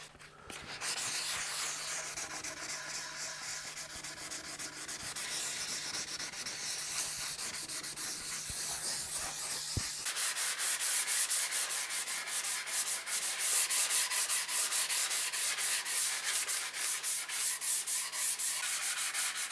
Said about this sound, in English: This primer went on really nicely, so it's taken a minimal amount of sanding to get it how we need it.